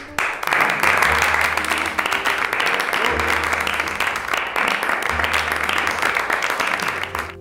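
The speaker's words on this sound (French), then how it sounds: "je crois que ça s'applaudit hein" An audience applauds steadily and loudly for several seconds at the close of a French comedy web series episode, a dense, continuous clatter of many hands with faint background sound underneath.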